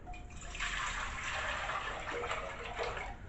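Water pours into a cooking pan with a steady splashing gush that holds for a few seconds, close and fairly loud.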